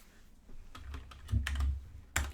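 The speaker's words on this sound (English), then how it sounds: "So I'm going to type constructor, and I'm going to give it two parameters, X and Y." Code being typed on a computer keyboard, a quick run of clicky keystrokes that builds to a few heavier taps, close and clear with no talking.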